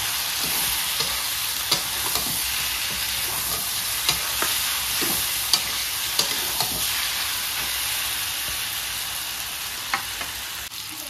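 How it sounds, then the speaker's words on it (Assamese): Pork pieces fry without oil in a pan, giving a steady, close sizzle with a scattering of sharp crackles and scrapes from stirring, no voices. "এইখিনি দি লৈ ধুনীয়াকৈ ভাজি দিওঁ এতিয়া"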